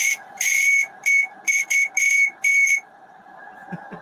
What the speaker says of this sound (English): Now you can see the whistle a bit better.